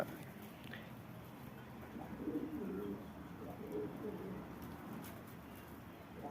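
Giribaz pigeons cooing softly at a home loft, a few faint low murmuring coos over quiet background rustle, with no clear talk.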